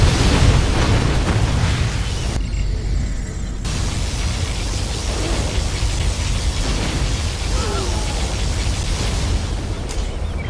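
A particle cannon blast in C&C Generals Zero Hour comes as a loud, sustained roaring, crackling wash of noise with a short break, then continues steady and heavy to the end.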